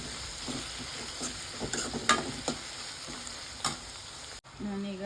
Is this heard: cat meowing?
no